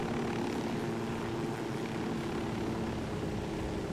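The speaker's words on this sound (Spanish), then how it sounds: "Se acerca un helicóptero al suelo." A helicopter in the Ghost Recon video game drones steadily with a dense, continuous engine and rotor roar, loud and close throughout with no talk.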